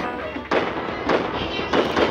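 Zombies run into bombs in the mobile game Zombie Tsunami, setting off three loud, bursting explosions about half a second apart over busy game background noise.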